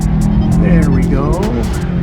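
A Subaru WRX STI on a race track holds a loud, steady engine note with rising and falling throttle tones, while someone talks over it the whole time.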